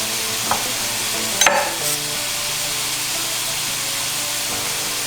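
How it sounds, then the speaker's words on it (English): Butter sizzling and being stirred in a separate pan to start a roux for venison stew, a steady loud frying hiss with a sharp utensil scrape and clatter early on. "So now we're going to make our roux here. We're going to take our butter again."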